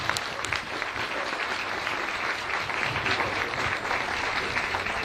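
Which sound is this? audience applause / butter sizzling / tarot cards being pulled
audience applause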